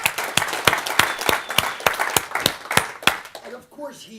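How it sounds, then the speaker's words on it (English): An audience breaks into a round of applause, a brisk burst of clapping that starts at full strength, stays loud for about three seconds and then tapers off. "Give Scott a round of applause"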